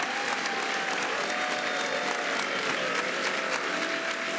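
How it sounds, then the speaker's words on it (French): Applause from an assembly in Europe greeting a change in law, a dense, steady clapping from many hands, continuous and moderately distant with no voices. "nous allons écouter le moment où ils applaudissaient pour un changement de loi là-bas en Europe"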